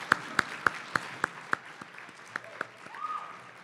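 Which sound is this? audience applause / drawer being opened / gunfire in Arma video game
audience applause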